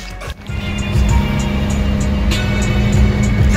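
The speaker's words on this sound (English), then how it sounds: "Is that a Ferrari? Yeah, it is." A Ferrari drives past nearby with a loud, steady engine roar and rushing road noise that hold for several seconds, with no talking.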